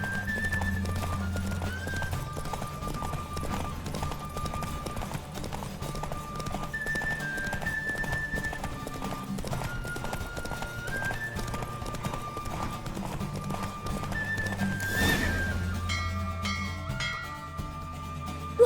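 Rhythmic hoofbeats of a galloping horse during a race in The Witcher 3: Wild Hunt pound steadily throughout, with a game-like music score playing underneath and a swell near the end.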